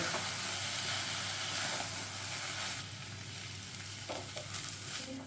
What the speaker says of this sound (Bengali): আলুটা দিয়ে ভালো করে মোচার সাথে মিশিয়ে নেব।